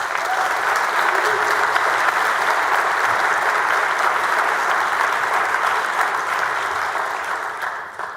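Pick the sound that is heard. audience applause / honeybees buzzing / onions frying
audience applause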